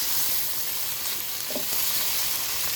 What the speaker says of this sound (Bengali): চিংড়ি মাছটা একটু হালকা ভাজা ভাজা করবো আর কি।